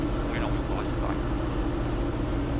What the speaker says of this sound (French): Là, je vais remettre les gaz.